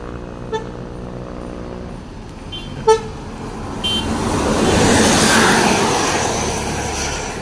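An NPM Sultan Class bus, a Volvo B11R nicknamed Coga headed to Jakarta and Bandung, sounds a short melodic horn toot, then sweeps past close by with a swelling engine and tire roar that fades away.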